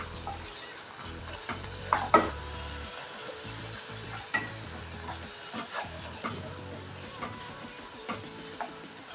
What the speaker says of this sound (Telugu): ఇప్పుడు ఇవన్నీ ఇంకోసారి కలిపేసుకుందాం.